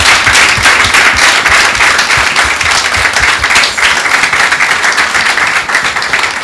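Audience applause welcoming an honorary professor of the University of Abomey-Calavi onto a stage, dense steady clapping from a large crowd that stays loud and even throughout with no talking.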